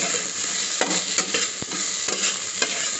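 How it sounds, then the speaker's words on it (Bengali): Grated ginger and ground cumin, cooked for a Bengali bhetki fish and vegetable curry, sizzle close up in a pan. A steady hiss runs under repeated stirring scrapes and spatula taps. "আর একটু ভাজা ভাজা করে, যাতে আদাটা কাঁচা গন্ধ না ছাড়ে"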